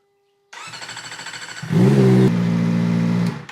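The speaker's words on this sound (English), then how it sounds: "The next most important thing to do would be to start up the bike." A Kawasaki ZX4RR motorcycle starts up: a starter whir cranks for about a second, then the engine catches with a loud burst and settles into a steady, close idle before cutting off.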